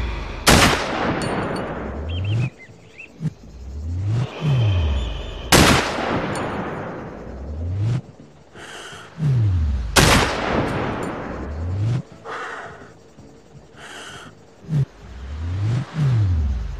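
Sniper rifle shots from the video game Sniper Ghost Warrior, a training range. Four loud, sharp blasts ring out at roughly even intervals, each trailing into a long echoing decay, with no talking in between.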